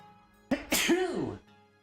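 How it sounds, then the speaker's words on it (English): A single close, loud sneeze: a sharp intake followed by an explosive burst that trails off, with quiet around it. "I might sneeze."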